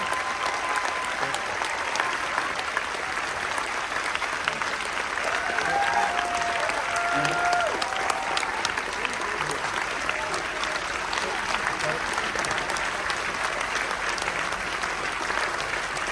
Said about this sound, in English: And then a big round of applause for everybody here.